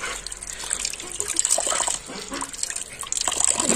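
Water gushes and splashes steadily into a container for chickens, a close, continuous bright rush with small variations in flow and no speech.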